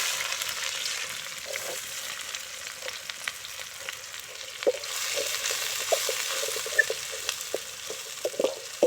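Onion and dried red chilies frying in a pan, a steady soft sizzle with scattered scrapes and taps of a spoon stirring, heard up close without speech.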